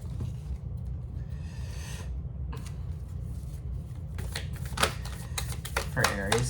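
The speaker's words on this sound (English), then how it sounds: "let's pull some oracle cards" Oracle cards are shuffled in a few brisk riffling bursts near the end, close and crisp, while a person talks over a low background rumble.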